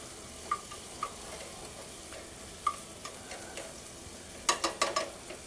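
Andouille sausage, diced garlic and diced shallots sizzle in a pan with a steady low frying hiss, broken by scattered clicks and a quick cluster of sharper taps near the end.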